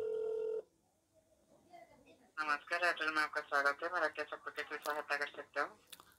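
A phone line to Airtel customer care gives a brief steady ringback tone. It cuts off within a second and is followed by a pause, then someone talking at length.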